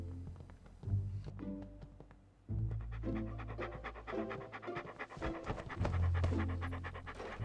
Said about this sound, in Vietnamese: Sao cửa hàng tây này còn có chó vậy?